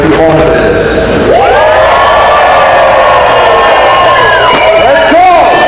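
A large conference crowd screams, whoops and cheers loudly in a room, a dense roar of voices with rising shouts, close and sustained throughout.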